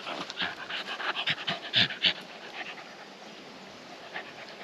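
A happy small dog pants rapidly and rhythmically up close in hot summer weather, with the short breaths rising and falling over a few seconds before easing off.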